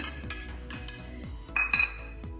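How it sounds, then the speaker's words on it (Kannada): Boiled sweet corn being added to a bowl makes a run of light clinks and taps against the dish, with one brighter ringing clink near the end, close and fairly quiet, with no talking. "ಮೊದಲಿಗೆ ಬೇಯಿಸಿಟ್ಟುಕೊಂಡಂತ ಸ್ವೀಟ್ ಕಾರ್ನ್ ಅನ್ನು ಹಾಕೋಣ."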